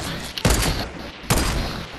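Sniper rifle shots in Fortnite, two loud sharp cracks about a second apart, each followed by a brief ringing tail, close and alone without talk.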